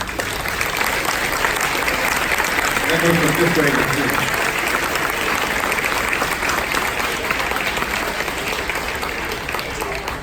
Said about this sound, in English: if you could please stand up and we'll give you a round of applause